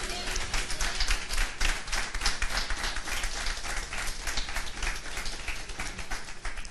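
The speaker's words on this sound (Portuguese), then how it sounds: "Pode aplaudir a palavra do Senhor." A church congregation claps along, brisk uneven handclaps at moderate distance forming a steady patter throughout, fairly soft overall with no talking over it.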